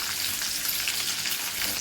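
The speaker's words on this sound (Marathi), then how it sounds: "आपलं तेल तापलंय, तेलामध्ये जिरा, त्यामध्ये लसूण टाकूया।" Cumin and crushed garlic sizzle in hot oil, a steady, dense, close hiss of frying with no talk.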